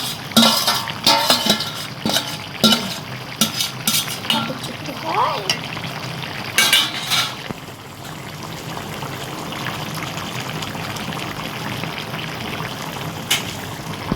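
Fish pieces go into a karahi of partly boiled eggplant, bringing clinks of a utensil against the pan, stirring, and a soft frying hiss that settles into a steady sizzle, with voices talking now and then.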